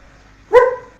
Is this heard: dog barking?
yes